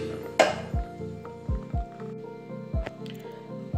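Thick, sticky sweet pongal (sakkarai pongal) drops from a spoon back into the pot in a series of separate soft wet plops, with a louder clatter of the spoon against the pot near the start.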